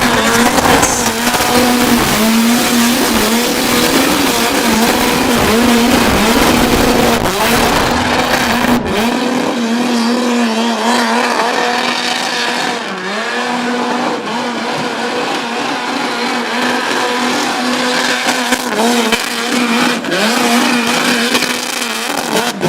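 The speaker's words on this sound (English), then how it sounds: "that is one of the best sounding burnout cars I've heard in the country" A burnout car at an Australian event screams at high revs with its tyres squealing, a loud, sustained harsh roar that drops off partway through before the engine howl carries on alone.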